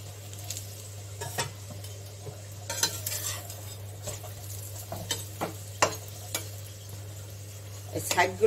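A large paneer paratha fries in white oil in a pan, with a steady low sizzle and intermittent scraping and pressing clicks of a spatula against the pan.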